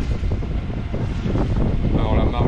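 Steady west headwind of 7 to 10 knots buffeting a sailboat off Sardinia near Cagliari, a dense, roaring rush of wind noise across the microphone with a faint watery wash beneath.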